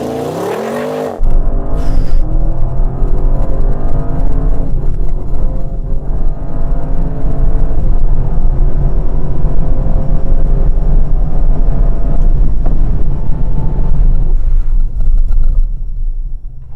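An Audi car engine starts and runs, then accelerates hard with rising revs and a deep, loud, close rumble that holds for many seconds, with no talk.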